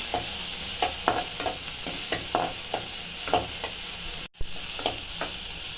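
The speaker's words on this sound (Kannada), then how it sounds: "ಟೊಮೆಟೊ ಹಾಕ್ತಾಯಿದ್ದೀನಿ ಇದೊಂದು ಸ್ವಲ್ಪ ಫ್ರೈ ಆಗಬೇಕು" Tomato fries in a pan with onion and garlic for goat trotter paya soup: an even sizzle under repeated rhythmic scrapes of a stirring spoon, close by, with one brief dropout near the end.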